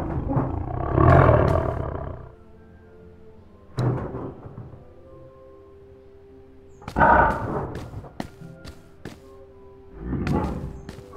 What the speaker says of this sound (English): There's a far more pressing concern in the room, and it's growling. There's an actual tiger in this room.